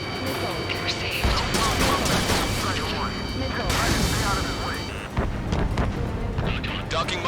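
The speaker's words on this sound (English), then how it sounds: "Docking module destroyed." A docking module blows apart in the Ace Combat 7 video game, a loud, dense rumbling blast that keeps roaring across the whole stretch, layered with radio voices and busy combat noise.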